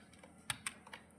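Computer keyboard keys pressed while entering figures in Tally ERP 9 accounting software, a few soft, close clicks in an otherwise quiet room.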